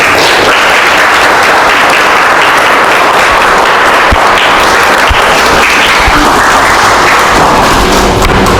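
Loud, sustained applause from a church congregation after a Christmas gospel song, with a few thuds scattered through the dense clapping.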